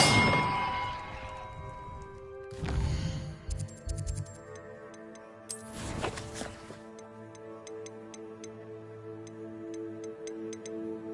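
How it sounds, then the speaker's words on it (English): Bells ringing in the video game Hogwarts Legacy: a loud clang struck at the start, then two more bright strikes a few seconds apart, each leaving a long ringing decay beneath light ticking sounds, with no talk. "contains clues about the order I'm supposed to ring the bells in"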